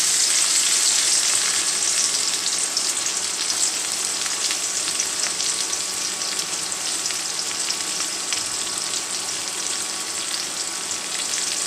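Garlic cloves and onion frying in hot oil in a pan, a dense continuous sizzle with fine crackling, steady and close for the whole stretch.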